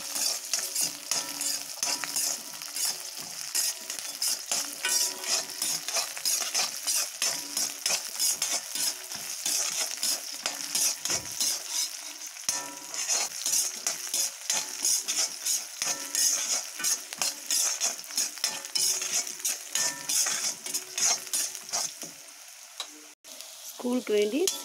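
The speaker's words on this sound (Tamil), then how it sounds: "நல்லா வதக்கிக்கணும். வெங்காயம் வதங்கிடுச்சு." Chopped onions sizzle steadily in a hot pan for idli chutney, with a spoon repeatedly scraping and stirring against the metal, close and constant throughout.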